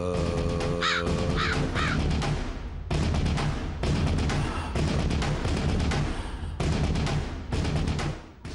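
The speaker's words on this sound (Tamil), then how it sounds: "காக்கா சத்தம் கேக்குது பாருங்க சார்." Crows caw repeatedly and loudly over a steady broadband background, in several bursts with short pauses between them.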